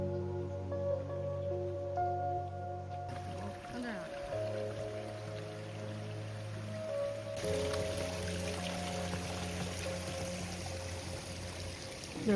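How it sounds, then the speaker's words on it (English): Creek water streaming over rocks at a trail crossing on the Hot Springs Trail near Montecito, a steady close pouring rush that fills the clip alone without voices. "There will be one creek crossing across this hike, which will be this one midpoint of the hike."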